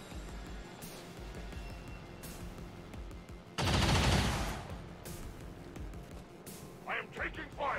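Gunfire in the video game XCOM 2, scattered shots with one heavy loud burst in the middle, while a voice speaks near the end.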